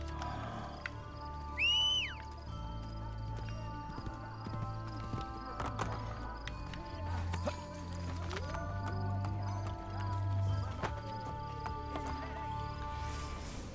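A horse whinnies briefly amid Assassin's Creed: Brotherhood game ambience, followed by steady clip-clopping hooves and low growling animal sounds, with no talking.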